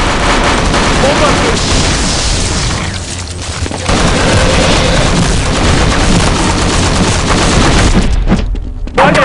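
A grenade blast in Counter-Strike zombie escape mod lands amid a dense, loud barrage of game gunfire and booms that barely lets up, with a brief dip before the end.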